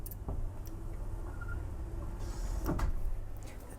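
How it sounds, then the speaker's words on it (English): A powered glass door on a Benetti Oasis 34-metre superyacht slides open with a quiet, steady motor hum and a few faint clicks and knocks. "We have another powered glass door."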